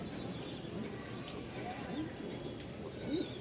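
Giribaz pigeons coo softly at a pigeon seller's place, with a few faint, rounded calls scattered over a low, quiet background.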